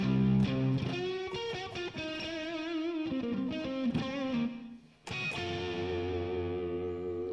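An electric guitar plays sustained, washy chords and notes drenched in reverb and effects, with a brief drop before ringing out again.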